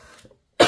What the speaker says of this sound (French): la toux est toujours là